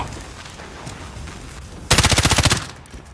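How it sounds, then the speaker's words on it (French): M13 rifle firing in Modern Warfare 2, a single loud close burst of about a dozen rapid automatic shots in an even rhythm, following a stretch of quieter game ambience. "Je vais juste tirer."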